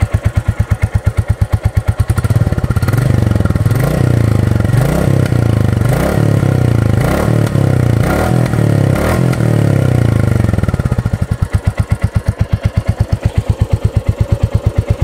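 A Royal Enfield Classic 350 Reborn motorcycle idles with a deep thumping exhaust, then is revved hard several times in quick blips that rise and fall, before settling back to a steady loud idle, close by.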